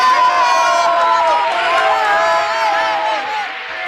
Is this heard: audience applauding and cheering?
yes